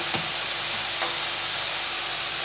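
A pan on the stove gives off a steady, loud hiss and sizzle after water goes into the boiling food, with a couple of faint clinks and no talk.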